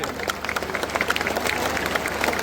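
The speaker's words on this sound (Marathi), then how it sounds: "जोरदार टाळ्या सगळ्यांसाठी" Crowd applause at a Dahi Handi festival in Thane, dense rapid clapping from many people filling the whole stretch, with faint voices mixed in.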